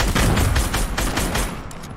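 Rapid gunfire in a first-person shooter during a tournament match, a dense burst of shots and booms filling nearly the whole moment, loud and close, fading slightly toward the end.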